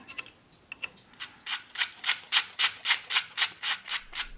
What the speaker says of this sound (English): lately I've been finding that the best way to do it is simply with sandpaper